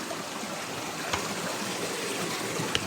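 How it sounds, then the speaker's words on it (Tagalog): A small stream flows steadily outdoors with a constant soft rushing trickle, near and even, with a couple of faint taps and no voices. "Kung saan yung may maliit na sapa"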